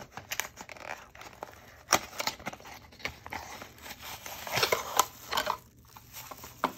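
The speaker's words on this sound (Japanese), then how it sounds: "それではこちらを早速開封をしていきましょう。" Packaging of a cheap 100-yen light-up computer mouse being torn open and crinkled, with sharp ripping and rustling bursts spread across the clip, close and moderately loud, no talking.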